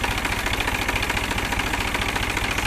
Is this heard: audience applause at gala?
no